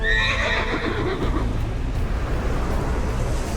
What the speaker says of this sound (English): Come to me, Pegasus!